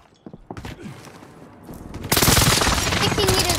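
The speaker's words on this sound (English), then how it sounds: "There's a dude shooting at me." Rapid automatic gunfire erupts in a Call of Duty match, with scattered shots at first and then a dense, loud burst of continuous fire, while a player talks over it.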